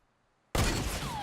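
A single loud gunshot from a bolt-action hunting rifle in Fortnite cracks out of silence, followed by a sustained ringing, echoing tail.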